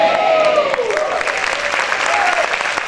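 A church congregation gives loud, sustained applause for the Lord, dense clapping from a crowd close by, with a voice calling out over it.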